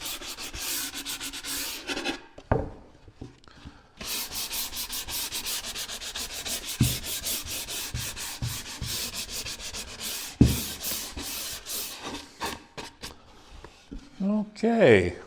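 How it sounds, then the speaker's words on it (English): A wooden nightstand panel being sanded with 150-grit paper, close and steady rubbing strokes in rapid rhythmic bursts with brief pauses, with a voice speaking now and then. "Let me go ahead and get it sanded up."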